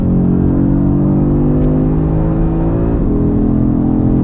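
Audi RS3 engine pulling hard on a test drive, a loud, steady, close rumbling drone with a rising tone and a brief dip near the end as it shifts, no talking.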